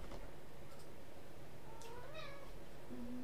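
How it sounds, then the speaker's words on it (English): A cat meows twice in a room during a live PC build, the cries rising and falling clearly over a faint low hum, with the second longer, wavering meow ending in a short squeak. "Meow."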